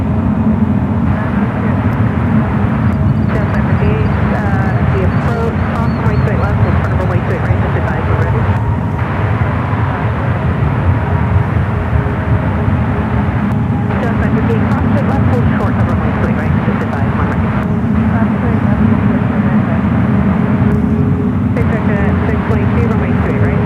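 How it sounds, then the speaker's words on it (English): An American Airlines Airbus A321 in US Airways retro livery makes its takeoff roll on runway 28 left at San Francisco International, a sustained, heavy jet-engine roar that stays loud and even across the whole stretch. "US Airways Retro American A321 now rolling down to 28 left"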